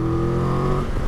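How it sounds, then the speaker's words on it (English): A 2023 Triumph Tiger 1200 Rally Explorer motorcycle engine gives a brief, loud, close induction roar, a throaty droning hum with steady harmonics that thins out slightly toward the end. "The noise from that engine, that induction roar"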